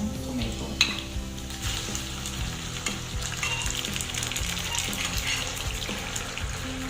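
Onion and tomato fry in a pan with steady close sizzling and crackle, broken by stirring scrapes and a sharp utensil clink near the start; no talking.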